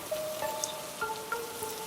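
Rain falling in an Asian jungle, a soft steady patter of drops close by, with faint tonal calls of wildlife running through it.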